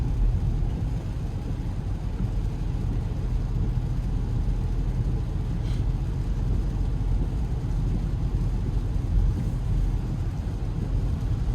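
Inside a 2026 Ford Bronco Sport Big Bend with a 1.5T engine driving around town, a steady low rumble of engine and road noise fills the cabin evenly, with no voices.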